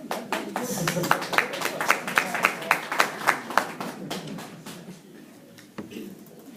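Audience applause at a political forum in a West Point elementary school, a burst of scattered claps that swells under a speaking voice, then thins out and fades after a few seconds.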